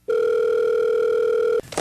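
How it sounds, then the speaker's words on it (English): A telephone ringback tone heard on an outgoing call, one loud steady electronic ring lasting about a second and a half, then cut off by a click and faint line noise. "Oh, it's ringing."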